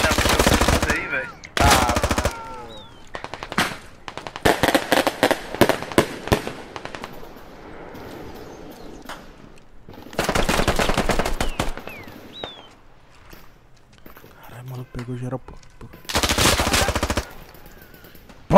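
Repeated bursts of loud gunfire and explosive blasts in a favela combat video game, an armored police vehicle blown up, separated by quieter gaps with scattered rapid shots.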